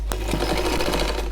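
A sewing machine stitches elastic in a rapid, steady mechanical chatter, close and clear, opening with a sharp click as it starts.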